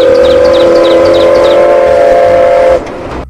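Toy Thomas train whistle sounding loud and close, a steady tooted tone with small chirping accents, cutting off sharply near the end.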